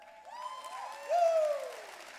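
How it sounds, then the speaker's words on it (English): An audience at a conference talk gives a quiet round of applause, a faint patter of clapping under brief high whistled or whooping cries that swell midway. "Give yourself a round of applause for that"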